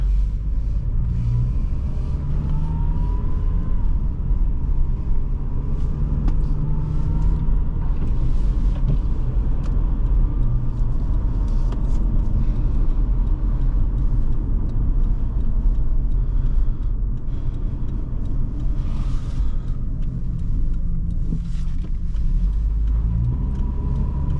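A 2005 Honda CR-V EX's engine rumbles steadily from inside the cabin as it drives along the road at light throttle, with continuous low road noise and no talking.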